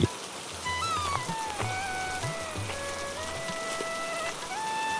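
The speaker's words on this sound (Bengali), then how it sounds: "কিরে হারান, আবার যে বৃষ্টি নামলো।" Steady rain patters on surfaces in a Bengali animated cartoon, a soft, even wash of drops with faint tonal music drifting over it.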